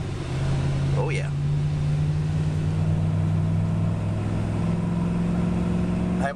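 A wood gas powered Dodge Dakota pickup driving on the road: a steady droning engine and road noise with a rising tone as it accelerates, a person talking over it.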